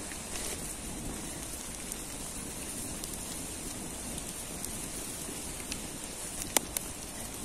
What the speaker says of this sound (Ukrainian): Падають краплі на розпечені дрова